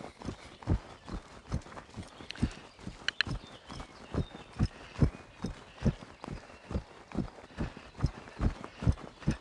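A ridden horse circles in an arena during a schooling exercise, its hooves falling in a steady, even clip-clop rhythm at close range with no talking.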